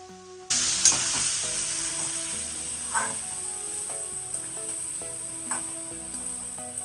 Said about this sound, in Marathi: अजून थोडा वेळ बारीक गॅसवरती शिजू देऊया आपण